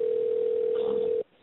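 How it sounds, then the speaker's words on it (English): A steady single-pitch tone sounds over a telephone line while a mobile phone is being called, holding unbroken for over a second and then cutting off abruptly into near silence. "Let me call his mobile phone and see if we can get him that way. Okay, it's ringing."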